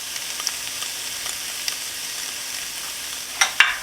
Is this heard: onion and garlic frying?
yes